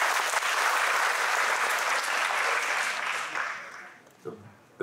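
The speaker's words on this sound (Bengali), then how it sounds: "তার জন্য একটা বড় হাততালি দিতে হবে।" An audience at a keynote talk breaks into loud, dense applause that holds steady for several seconds, then thins and fades away, with a few stray claps and a voice near the end.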